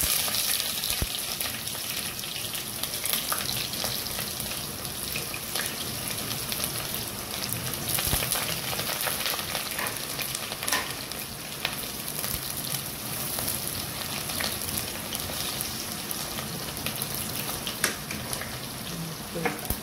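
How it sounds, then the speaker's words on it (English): Onion frying with prawns in a pan, a continuous close sizzle with scattered crackles and pops throughout, steady and fairly loud, no voices. "The onion to brown lightly, and then I'll add this."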